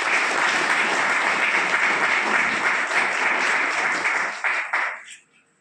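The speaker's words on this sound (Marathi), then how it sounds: "तुम्ही टाळ्या वाजवल्या," A conference audience in Aurangabad applauds warmly, a dense, steady wash of many hands clapping that holds loud for several seconds, then thins into a few scattered claps and fades out near the end.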